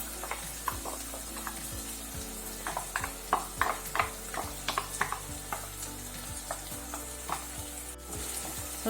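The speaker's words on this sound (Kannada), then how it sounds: "ಈಗ ರುಬ್ಬಿದ ಮಿಶ್ರಣ ಹಾಕ್ತಿದ್ದೀನಿ." Ground masala paste, added after tomatoes, frying in a pan for egg curry: a continuous sizzle with repeated scraping stirs and light utensil clicks, close and fairly loud, no talking.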